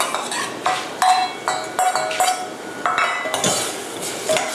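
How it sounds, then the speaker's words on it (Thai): Minced pork and pork skin stirred in a pan for Thai laab: repeated metallic scraping and clinking of a utensil against the pan in quick, uneven strokes, close and clear with no talk. "คนให้เข้ากันนะคะ"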